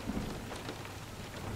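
Steady rain falls with a low rumble of thunder beneath it, a soft, continuous stormy wash at low volume with no voices.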